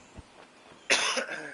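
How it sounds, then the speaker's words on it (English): A commentator coughs during a golf game broadcast: a faint throat sound early, then one loud, harsh, close cough lasting about half a second, with no speech. "Sorry again, coughing like crazy"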